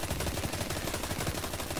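Rapid weapon fire in the Destiny video game, a dense stream of quick repeated shots with a steady, even rhythm throughout and no talk over it.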